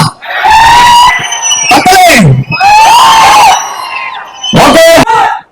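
An excited audience at a film promo event for Arasan at a cinema in Tirupur whoops, screams and cheers in loud repeated bursts, with pauses between the outbursts.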